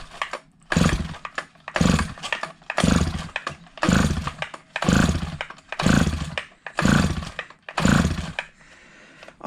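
A vintage Stihl 011 AV 41cc chainsaw with gas squirted into the carb is pulled over repeatedly, about nine rhythmic rasping pull-start bursts close by, sputtering without catching and running.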